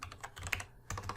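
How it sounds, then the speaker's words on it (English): Quick, light keystrokes on a computer keyboard, a close run of soft clicks with a short pause near the middle before the tapping resumes. "if I can type"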